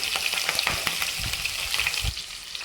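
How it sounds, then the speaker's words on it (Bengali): Prawns fry in hot oil in a wok for lau chingri, a continuous bright sizzle and crackle with a few soft stirring knocks, close and alone. "এবার আমি চিংড়ি মাছটা ভেজে নেব"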